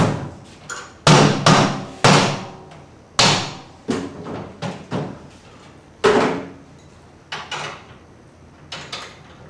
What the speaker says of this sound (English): Tap the clamp ring all around while tightening the screw and nut.